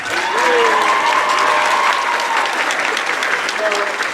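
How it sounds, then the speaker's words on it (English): A Christmas band concert audience applauds the clarinets and saxophones, a loud sustained wash of clapping with a crowd murmur and faint voices underneath. "Clap it up for them."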